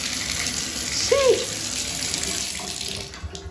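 Water runs steadily from a home shower, a constant moderate hiss with a brief squeak partway through and no talk.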